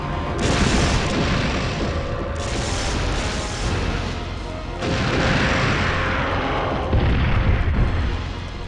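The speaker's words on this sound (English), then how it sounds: "he's able to take a couple of shots from a rail cannon" Loud booming rail cannon blasts, about three heavy bursts, each followed by a rumbling roar that fills the space between shots, in a Resident Evil game.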